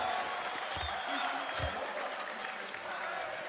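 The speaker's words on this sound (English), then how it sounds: "This crowd is very hyped for Na'Vi." Esports arena crowd at a CS:GO LAN final cheering for Na'Vi, a steady roar of applause and shouting with a couple of low thumps, heard under a commentator's voice.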